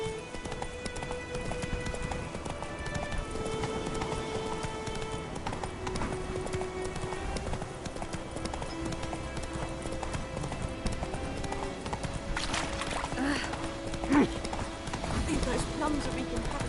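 Horse hooves galloping in a PS4 video game, a steady rhythmic clip-clop running throughout under game music and voices.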